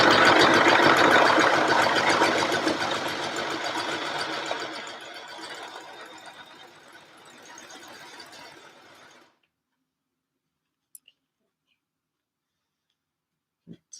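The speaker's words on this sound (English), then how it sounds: "I'm just going to go ahead and overlock." An overlocker stitches fabric with a rapid, close mechanical chatter that starts loud, slows and fades over several seconds, then stops, leaving near silence with a few faint clicks.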